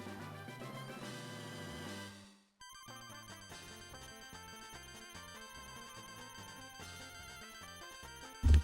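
Electronic telephone ringtone heard in a home, a melodic tone pattern that pauses briefly, then carries on repeating steadily at moderate volume with no talking.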